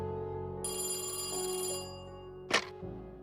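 An old-fashioned telephone bell rings for an incoming call, a bright metallic trill lasting about a second over a low background tone, followed by a sharp clunk like the handset being lifted.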